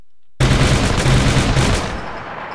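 AK-47 rifle fire in a Minecraft zombie mod game: after a short silence, a sudden loud burst of rapid automatic shots runs for about a second and a half, then trails off.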